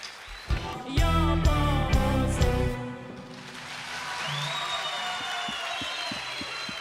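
Studio audience applause for a singer on the Turkish TV talent show Popstar, a sustained even wash of clapping that follows a loud burst of music and voice at the start.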